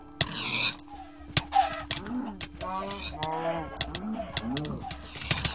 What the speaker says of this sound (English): These cows are a pain.